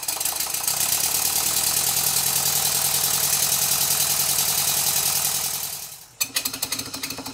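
A Stuart Twin Victoria model steam engine chuffs rapidly and evenly at high speed, a dense close mechanical rattle that drops away near the end, then restarts with slower distinct beats.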